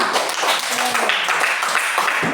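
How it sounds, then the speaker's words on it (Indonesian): A group in a classroom claps for a student, with dense, continuous applause and a few voices mixed in underneath. "Tepuk tangan untuk Ica"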